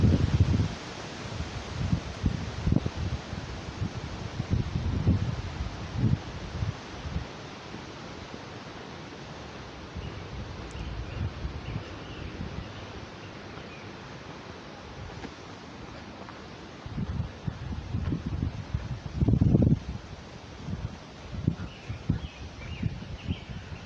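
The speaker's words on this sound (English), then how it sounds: "hear that breeze picking up? That wind now." A breeze stirs the trees along a forest trail in a national park, a broad rustling wash with gusty low rumbles of wind buffeting the microphone, rising and falling throughout.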